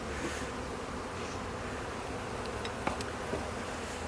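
A constant, dense hum of many honeybees buzzing up close on a comb during a check of a weak colony, steady throughout, with a few faint clicks and knocks.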